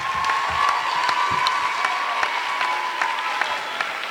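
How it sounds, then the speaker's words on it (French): A televised talent-show audience, Incroyables Talents 2019, applauds and cheers for a dance group, giving a dense, steady wash of clapping with scattered whoops that carries on throughout. "Un tonnerre d'applaudissements pour le groupe MD Crew."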